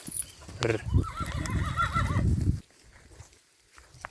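A horse gives a loud, wavering neigh lasting a couple of seconds, with a few hoof clops and faint farmyard sounds in Kosmach, then quiet.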